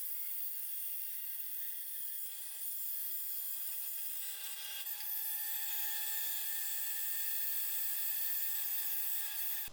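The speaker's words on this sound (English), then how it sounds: "the bandsaw made quick work of that" A bandsaw cuts Osage orange wood for a bow, giving a steady, thin, high-pitched whine that grinds on evenly and fairly faintly throughout, with no voices.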